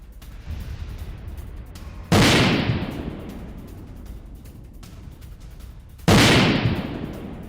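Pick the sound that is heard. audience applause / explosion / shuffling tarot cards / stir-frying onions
explosion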